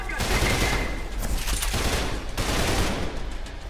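Heavy, continuous gunfire in the shooter Trepang2 fills the scene with loud, dense bursts of shots layered together, with a couple of sharper cracks standing out.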